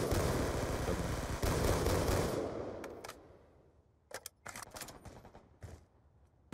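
Rapid bursts of single-shot gunfire in a multiplayer shooter game, loud and dense at first and then thinning to a few sharp separate cracks as the firing fades.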